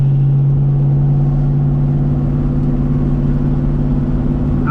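A 1997 Mustang Cobra V8 with a T45 five-speed manual drones steadily from inside the cabin while driving, a loud, even low rumble with a strong constant engine tone and no voices.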